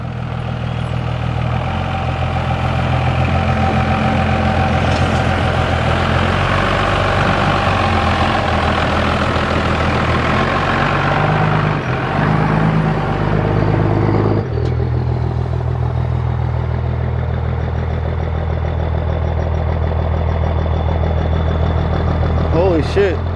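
A 1950 Dodge Coronet with a Gyro-Matic transmission idles and runs loud and close, a steady engine drone with clatter, shifting in tone midway as the car pulls away.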